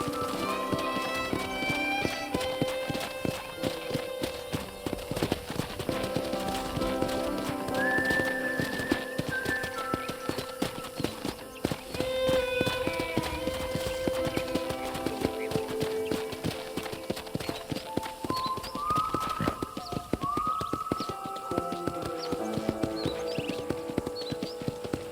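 Horse hooves clip-clop at a steady riding pace in Red Dead Redemption, close and continuous beneath soft background music.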